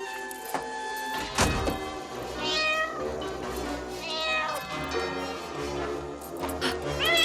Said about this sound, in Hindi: वो बिल्ली से डरती है। काली बिल्ली से।